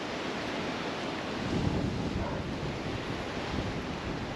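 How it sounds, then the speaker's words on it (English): Wind gusts across the microphone beside the water on a tenkara fishing outing with a micro spoon, a steady broadband rush that swells briefly midway, with no talking. "the wind's just blowing it straight back in my face."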